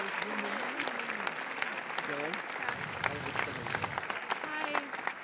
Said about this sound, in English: And the applause still goes on.